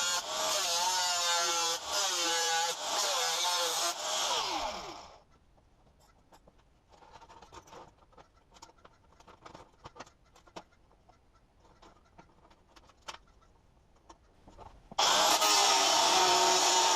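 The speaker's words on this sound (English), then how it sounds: "it doesn't take that long to cut the rectangle out of the old circular saw blade" An angle grinder with a cut-off disc cuts through an old steel circular saw blade, a loud, high, whining screech for about five seconds. Quiet scraping and clicks follow, then the grinding returns loudly at the end.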